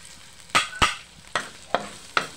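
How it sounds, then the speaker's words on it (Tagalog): Garlic sautés in a pan for callos, under a faint sizzle broken by five loud, sharp clanks of a utensil against the pan at an uneven pace. "Simulan ko na, guys, ang pagluluto. Unahin natin ang bawang."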